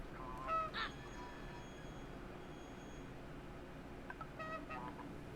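Cartoon goose honks from the video game Knights and Bikes, two short bursts of honking, one early and one near the end, over a steady low background hum.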